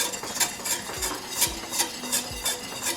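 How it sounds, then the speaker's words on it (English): Whisk stirring honey lemon sauce in a pan, quiet, evenly spaced strokes scraping the metal in a steady rhythm, with no talking. "Continuously whisk this"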